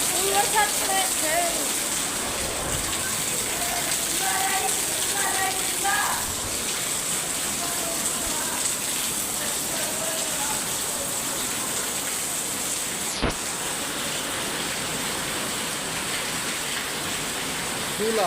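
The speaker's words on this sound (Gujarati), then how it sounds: "વરસાદ ઘણો પડ્યો" A downpour in Kutch keeps up a constant roaring hiss close by, with some faint bird-like chirps early on and a single sharp click partway through, and no voices.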